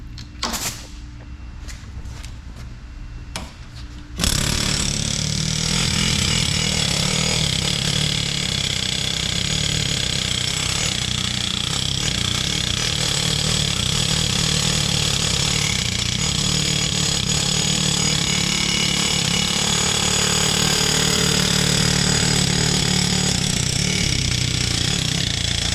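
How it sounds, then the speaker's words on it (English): An air hammer works the pins of a Caterpillar D9L bulldozer, a loud, continuous, harsh pounding roar that starts abruptly after a few seconds of quieter clatter and holds steady to the end. "why don't you hook that air hammer up there and we'll sand her all the way."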